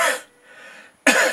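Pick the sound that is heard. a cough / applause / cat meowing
a cough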